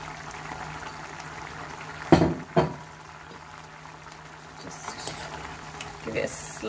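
A spoon gently turns a cauliflower and rohu fish curry in a pot, a quiet simmer and sizzle running underneath and two sharp scrapes against the metal.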